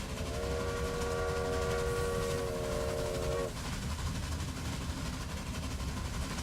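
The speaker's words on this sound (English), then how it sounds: "let's ride our passenger train on down and call it quits." A passenger train in the Railway Empire video game sounds a steady multi-tone whistle for a few seconds over continuous rolling rail rumble, which carries on alone after the whistle stops.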